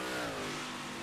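Race car engines in the iRacing sim game roar and rev continuously at a steady, droning pitch, loud and unbroken, likely at Eldora Speedway.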